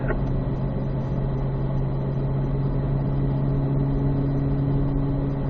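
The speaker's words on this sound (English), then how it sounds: "Now at pace, you will be upshifting to fourth gear." Race car engine droning at pace on an oval track, a loud, steady mechanical hum with a strong low tone that holds level throughout, without any clear break for a gear change.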